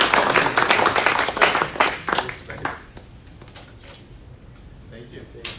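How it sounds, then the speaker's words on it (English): Audience applause at a data and AI innovation awards ceremony, a few seconds of clapping that fades away, with a voice speaking over part of it. "a round of applause for them too."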